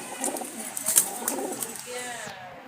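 Jalali pigeons, including a lively red-eyed male, cooing softly at close range over a hissing background, with a few brief flutters and scratches and faint human voice present.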